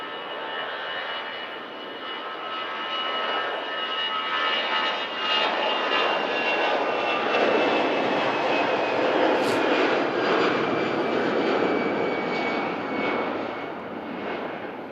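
EasyJet Airbus A320 jet departing Manchester Airport, a loud, sustained engine roar and whine holding steady for the whole stretch, broad and rushing with a faint tonal hum on top.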